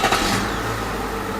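Truck engine catching after cranking, a short burst at the start settling into a steady mid-pitched idle rumble, close and fairly loud with no talking.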